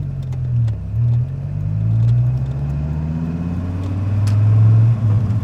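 A 121K-mile Dodge Viper cruises on a Saturday night, its deep engine drone rising and falling through gear changes, loud and close from inside the car, with no talk.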